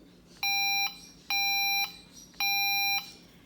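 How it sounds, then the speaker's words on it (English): Three electronic horn beeps from a powerchair, each a steady tone about half a second long, spaced evenly apart against a quiet background. "This is the horn button."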